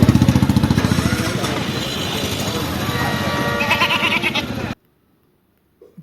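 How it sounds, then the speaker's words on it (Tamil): Goats bleat repeatedly and loudly at a Sunday Kanni goat market in Thiruvenkadam, overlapping cries sounding close amid crowd noise before cutting abruptly to near silence. "பாருங்கள் ஆடுகள் வந்து இறக்கிட்டு இருக்காங்க"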